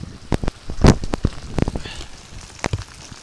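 Heavy rain pours onto a street in the California mountains, a close dense patter broken by sharp splashes and crackling drops, loud and uneven.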